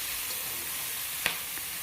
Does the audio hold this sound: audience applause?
no